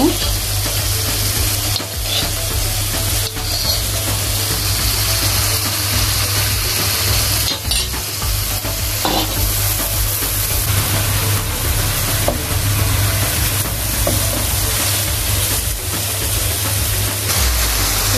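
Catla fish pieces fry and sizzle steadily in a pan while being stirred, a loud continuous hiss with scraping strokes throughout and a low steady hum underneath.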